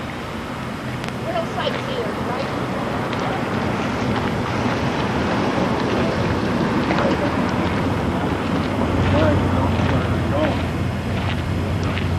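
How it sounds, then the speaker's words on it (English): Steady wind buffets the microphone, a continuous low rumble and roar with faint gusts throughout. "And it's windy, so it'll be noisy."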